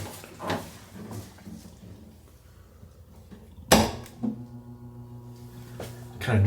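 Fire door swinging shut and catching onto a magnetic door holder in a home with an addressable fire alarm system, giving a sharp close thud followed by a smaller knock, against a low steady background hum.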